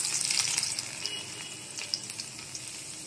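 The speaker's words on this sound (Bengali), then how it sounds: "এই যে ফোড়নের তেলটা হয়ে গেছে, এই যে রসুন কুচনো দিচ্ছি" Chopped garlic hits hot tempering oil in a pan and sets off a loud, close, bright sizzling hiss that is strongest at first and then settles into softer crackling pops.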